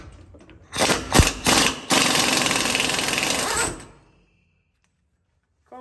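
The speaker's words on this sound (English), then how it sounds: "grab your impact with an 1¼-inch socket to get this pinion nut" An impact wrench with a 1¼-inch socket hammers loose the pinion nut on a GM 8.6 rear end, giving a few short loud bursts and then a long continuous rattling run that stops abruptly before quiet.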